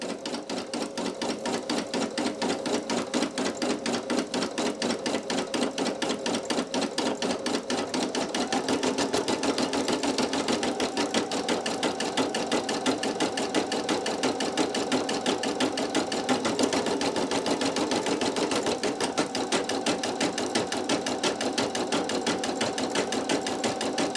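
A Brother PE800 embroidery machine stitches the underlay layer on a towel, its needle hammering in a fast, even rhythm that keeps going without a break and shifts pitch slightly partway through.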